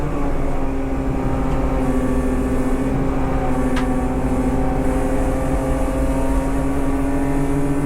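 Superberline 2.0 race cars in a sprint race at Dijon make a loud, steady engine drone that holds an even pitch for several seconds, with no clear pass-by swell.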